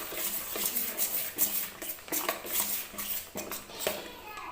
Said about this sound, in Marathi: छान असं मिक्स करून घेते मी.